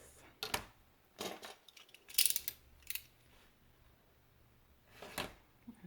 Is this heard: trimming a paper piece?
yes